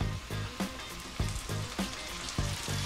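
Jujube pickle with jaggery and vinegar being stirred in a pan: a soft simmering sizzle broken by regular spoon scrapes about every half second, close and fairly quiet, with nobody speaking.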